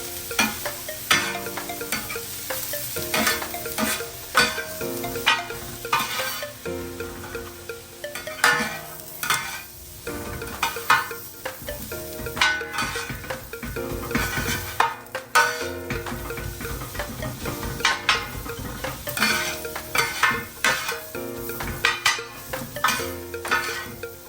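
Mutton kothu roti being stirred and mixed in a pan, repeated scraping and clattering strokes of a spatula over steady sizzling, close and continuous.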